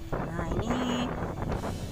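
A sea breeze gusts at Klayar beach in Pacitan, East Java, buffeting the microphone with a continuous rough rumble while a voice talks over it.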